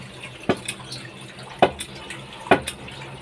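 Backwash water flowing out of a home iron filter, with a steady wash of water broken by three sharp splashing bursts at regular intervals.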